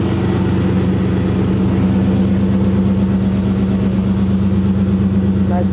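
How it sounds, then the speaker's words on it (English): Loud, steady idle of a car engine with a deep, throaty Loudmouth aftermarket exhaust rumble, continuous and close with no talking. "That's the loudmouth exhaust."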